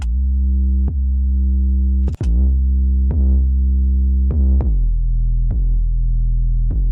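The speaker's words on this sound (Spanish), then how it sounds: "Ven cómo bombea la distorsión al ritmo del bombo." Solo bass line drenched in distortion that swells and ducks in time with a kick drum, sustained low notes pumping rhythmically about once per second, with sharp dips at each beat, alone and loud.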